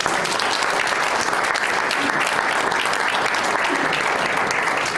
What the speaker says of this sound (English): I think we need to give a round of applause to these candidates up here.